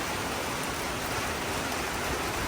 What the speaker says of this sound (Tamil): சரியான மழை, பெரிய பெரிய துளியாக விழுது